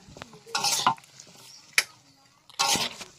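Potatoes and Malabar spinach with spices are stirred in a pan in a few brief bursts of scraping and rustling, close by, with quiet gaps between them.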